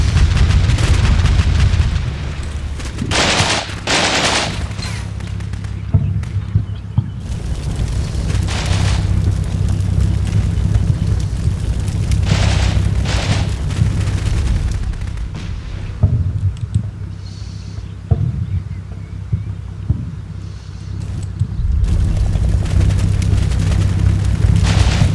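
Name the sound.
machine gun fire and explosions in Combat Mission Black Sea video game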